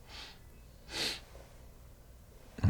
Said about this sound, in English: I don't know why I'm still sniffling